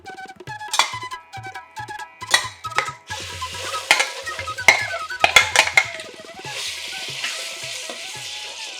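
Mashed plantain dropped into hot ghee in a pan for Kerala pazham pradhaman, with loud close stirring, scraping and sizzling frying, with spoon clinks against the pan throughout.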